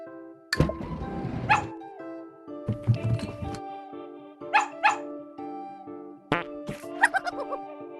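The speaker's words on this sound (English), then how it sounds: "Where is the dog?" A cartoon dog gives several sharp, close barks and yips in separate bursts over a steady musical tone.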